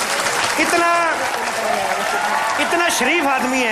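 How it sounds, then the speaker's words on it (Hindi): A studio audience at a comedy show claps and cheers loudly, a continuous wash of applause running under someone speaking over it. "जोरदार तालियां।"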